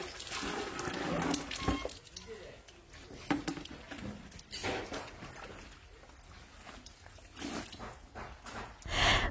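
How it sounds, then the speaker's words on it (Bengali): Pillow covers are hand washed with Hokla soap, producing soft, intermittent splashing, wet scrubbing and sloshing of water at close range, fairly quiet, with a few louder splashes. "বালিশ কভারগুলো তুলে নিলাম, আর হোকলা সাবান দিয়ে ভালো করে একদম কেচে কেচে ধুয়ে দিচ্ছি।"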